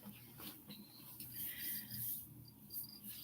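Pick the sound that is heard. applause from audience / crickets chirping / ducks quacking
crickets chirping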